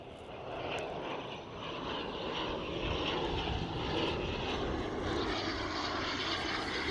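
An airplane flies past a plane-spotting spot on the Harewood Road mound, its engine a steady, loud broadband roar that holds for the whole stretch with no voices.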